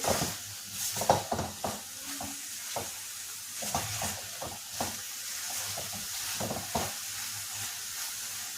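A spoon stirs cardamom powder into finished carrot halwa (gajar ka halwa) in a pan, giving repeated soft scraping strokes and light sizzling, steady and close, with no talking.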